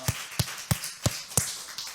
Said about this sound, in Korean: 우리 주님께 영광 박수 올려드리겠습니다